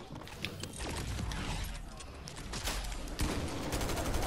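Rapid gunfire from enemies shooting in a first-person video game, dense crackling shots over constant mechanical clatter, loud and continuous throughout.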